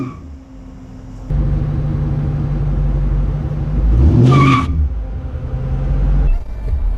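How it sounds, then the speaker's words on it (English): Muscle car with freshly fitted 17-inch drag radial tires doing a burnout: loud sustained engine roar that swells and revs harder midway, with a rising pitch sweep, then drops back near the end. "A burnout!"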